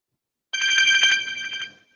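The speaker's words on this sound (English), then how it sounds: "Oh, that's not my phone. No, that's my phone." A phone ringtone sounds as a steady, bright electronic ring lasting over a second, loud and close, then breaks off with no speech.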